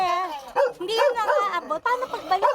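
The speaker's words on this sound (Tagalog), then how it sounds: "Uy, may aso, yeah." A dog barks and yips several times in quick succession, mixed with whiny, whimpering sounds and some voices nearby.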